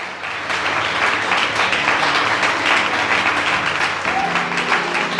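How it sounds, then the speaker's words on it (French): A church congregation bursts into sustained applause and cheering, loud and steady for about five seconds after a brief quieter start, with a few voices audible within the crowd noise. "Est-ce qu'on peut acclamer Jésus de Nazareth"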